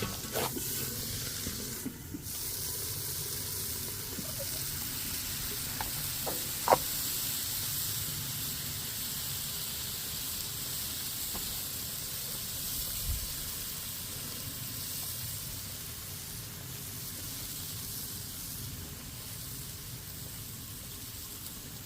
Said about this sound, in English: let's steam them again